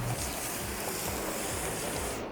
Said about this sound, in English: I'm going to wash it off with water.